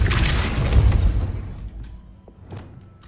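Depulso force spell cast in Hogwarts Legacy, a booming low burst that rumbles and fades, followed by a few faint knocks.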